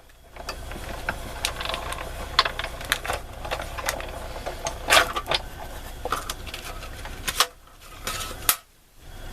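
An old die cutting machine cranks a Globeland die through paper and card stock, a steady close mechanical grinding and rattling with repeated clunks, then a pause and a final clunk.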